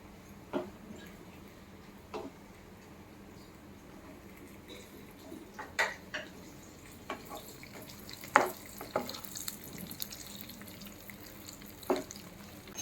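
Cashews and raisins fry quietly in ghee in a pan, a soft low sizzle with scattered clicks and light scraping taps of a spoon at intervals.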